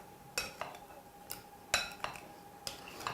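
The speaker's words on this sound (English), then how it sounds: "And all that's left to do is just mix that really through." Spoon scraping and clinking in a bowl while mixing baked sweet potato ingredients, a series of sharp separate taps at an irregular pace, close and fairly quiet, no voices.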